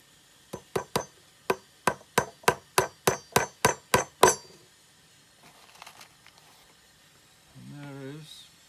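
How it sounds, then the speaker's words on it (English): About twelve sharp, evenly spaced hammer taps drive small nails into a wooden beehive frame, close and loud, followed by quiet shuffling and then a brief voice. "So I'll now put 2 more nails in."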